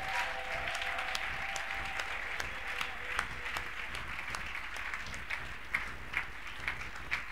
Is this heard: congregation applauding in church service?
yes